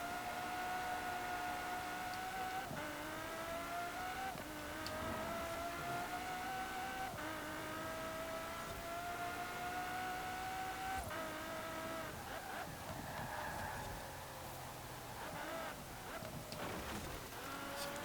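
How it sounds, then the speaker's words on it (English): Massive V12 racing car in Forza Horizon 4 screaming toward nearly 9,000 RPM, a loud sustained engine howl that rises steadily and drops briefly at each gear change, with no talk over it. "It's an incredibly loud car though, with that massive V12 engine."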